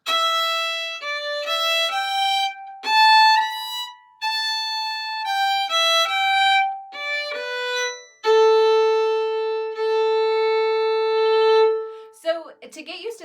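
Solo fiddle plays the closing phrases of the Scottish strathspey Highlander's Farewell, with crisp separate bowed notes in a jerky dotted rhythm that end on a long held low note, close and clear with no talking.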